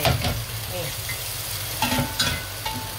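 Chili fries in hot olive oil for shrimp-paste sambal with a steady, loud sizzle, while a utensil stirs and scrapes the pan with a few light knocks.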